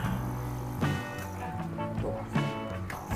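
An Amara aquarium air pump runs close by, giving a steady motor buzz under a rushing, airy hiss that swells slightly now and then.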